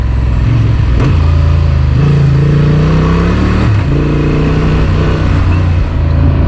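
A Honda Transalp motorcycle engine, loud and close, holds a steady drone while riding, with pitch shifts from gear changes and throttle variation along the way.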